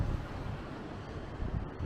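Strong wind buffets the microphone at night in North Wales, a continuous rough rumbling roar with slight gusty swells throughout.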